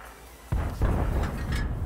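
A tank gun shot in the video game World of Tanks. A sudden deep boom is followed moments later by a second heavy blast, and a rumbling roar lingers afterward, close and loud, with no talk.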